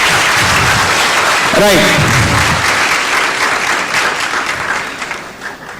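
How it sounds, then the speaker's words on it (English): At a hackathon event, a crowd claps loudly in a dense wash of applause that fades toward the end, while a voice briefly speaks over it. "Give them a huge round of applause, please."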